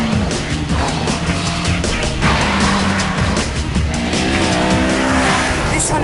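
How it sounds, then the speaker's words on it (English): A Honda S2000 sports car's engine roars continuously at close range on a test lap while tires squeal and skid through hard cornering, loud and unbroken. "Time for a one-lap challenge against my own sports car"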